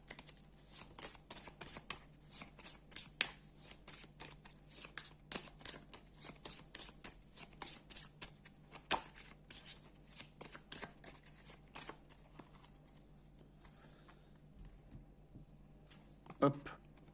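A deck of game cards is shuffled in many quick riffling bursts during a solo board game, crisp papery flicks repeating close by for most of the stretch, with a soft voice murmuring underneath.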